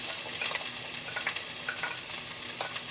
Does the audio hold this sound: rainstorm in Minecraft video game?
no